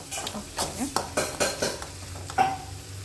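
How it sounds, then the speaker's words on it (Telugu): Spice paste with coconut paste frying in oil for a Kadapa-style country chicken curry, stirred in a pan with repeated scraping strokes and clinks of a spoon against the pot over a low sizzle. "ఆయిల్ కొంచెం పైకి వచ్చే విధంగా బాగా వేయించుకొని"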